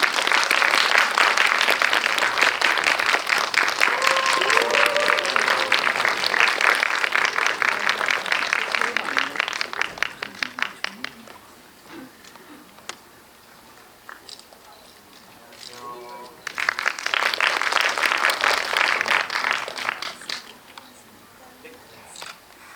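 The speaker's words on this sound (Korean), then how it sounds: "큰 박수로 환영해 주시기 바랍니다" Loud, dense applause from a large audience welcoming guests onstage after a film screening, about ten seconds, dropping to quieter scattered sounds, then swelling again into a second burst of clapping.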